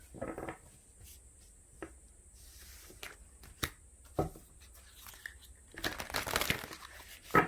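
Oracle cards handled and drawn from a deck in a quiet room: faint papery shuffles, crinkles and soft snaps scattered throughout, with a brief louder burst of rustling near the end.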